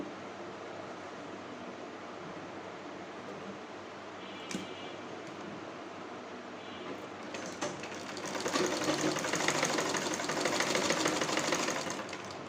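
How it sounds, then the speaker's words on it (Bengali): Sewing machine stitching an open collar onto a dress, running steadily throughout and growing louder and busier in the last few seconds, with no talking. "এখন জামার উপরে সেলাই করে নেব।"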